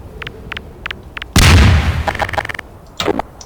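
A sudden loud grenade blast from a war video game, followed by a rattle of gunfire and scattered sharp shots, with short bursts of gunfire heard just before it.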